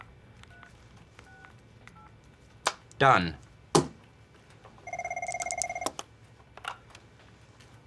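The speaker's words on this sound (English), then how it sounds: "I will reprogram my phone to go to my office phone." An office desk phone rings in loud, repeated electronic bursts after a short run of dialing tones, with people talking briefly around it.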